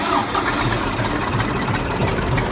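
A tractor engine, started with its self-starter, runs with a rough, steady mid-pitched knocking rumble at close range throughout.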